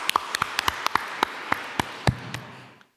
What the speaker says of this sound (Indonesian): Tepuk tangan dong untuk mereka ya.